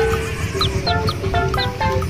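Chicks clucking and peeping near a riverbank, several short chirps in quick succession over steady background noise.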